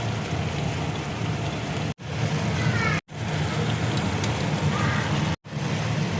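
Rui fish pieces drop into hot oil and fry with a dense, steady sizzle and crackle, close and loud, broken by a few brief cuts.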